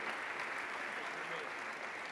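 Steady, dense applause from an audience at an awards ceremony for economy and development in Friuli Venezia Giulia, continuous and even throughout with no clear breaks.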